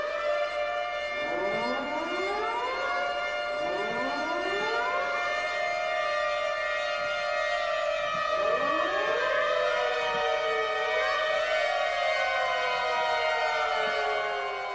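Loud wailing civil-defense-style sirens rise and fall in overlapping sweeps throughout an art performance, steady and continuous with no talking.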